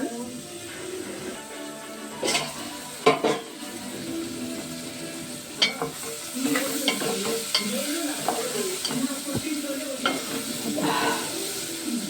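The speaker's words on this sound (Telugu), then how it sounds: "వేపు ఇస్తానండి ముక్కలతో." Vegetable pieces, including drumstick slices, frying in a pan: a continuous close sizzle with scraping stirs and occasional sharp clicks of a utensil against the pan, while a voice talks intermittently over it.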